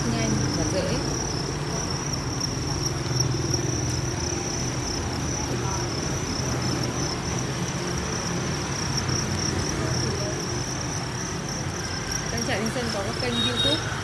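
Farmed crickets chirp in a dense, continuous chorus that fills the space at steady volume, with faint background noise underneath.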